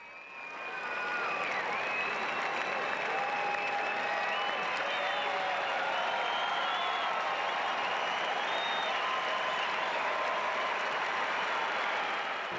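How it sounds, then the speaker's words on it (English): A packed stadium crowd at a state wrestling final rises into loud, sustained applause for a champion, a dense roar of clapping with scattered cheers that holds steady throughout. "the Kohl Center roared with applause"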